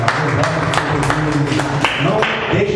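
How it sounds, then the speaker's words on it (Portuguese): A church congregation claps together at the close of a worship service, a dense, steady wash of many hands applauding throughout at close range and fairly loud. "E que as palmas louvem a Deus"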